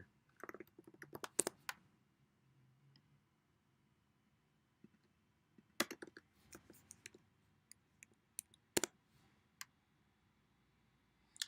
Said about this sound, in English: Let me just type it in Google and see what they have there.